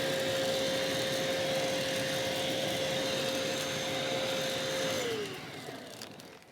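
A vacuum cleaner sucks up a neat pile of dirt inside a caravan, a loud steady roar with a constant tone that drops in pitch as the motor switches off and winds down at the end.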